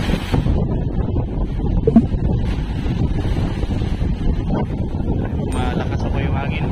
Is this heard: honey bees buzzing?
no